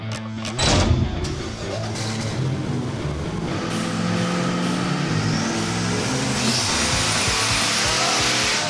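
A Chevy 454 SS truck's engine revs hard on a chassis dyno, a loud continuous roar climbing steadily in pitch as the revs rise, with a few clunks at the start.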